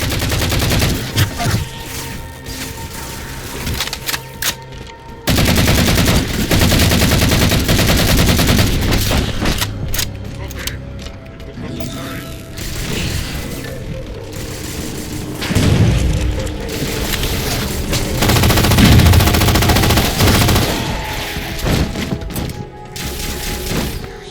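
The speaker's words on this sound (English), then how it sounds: "Taking fire! Starboard side!" Sustained gunfire and heavy booms roll through a Halo 4 campaign battle, with rapid bursts and thuds overlapping continuously at high volume for the whole stretch, no one speaking.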